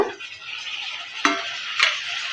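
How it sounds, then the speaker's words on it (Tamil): Tomato and curry leaves are sautéed in a pan for a brinjal gravy. A low, steady sizzle carries two sharp stirring scrapes, and the pan is heard alone without voices. "தக்காளிக்கு உப்பு சேர்த்து வதக்கி எடுத்துக்கலாம்"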